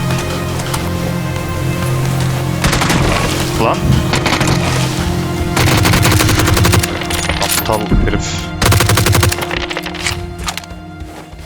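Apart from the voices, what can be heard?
gunfire from the video game PUBG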